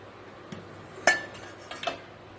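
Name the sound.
lid removed from hot pot of steamed prawns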